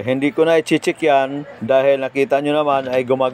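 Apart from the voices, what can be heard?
No everyday noises stand out.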